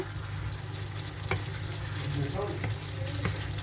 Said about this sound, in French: On va laisser un petit peu griller en même temps les pommes de terre.